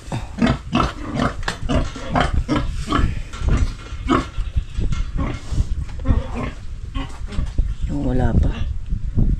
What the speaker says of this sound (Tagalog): Chinecheck ko rin yung isang baboy natin dito.